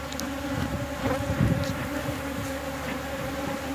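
Honey bees swarm around an opened backyard hive, their dense, steady buzzing droning close by for the whole stretch with no voices over it.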